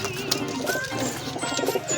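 Pigeons coo in a loft, soft repeated throaty calls close by with a faint chirp among them and no talking.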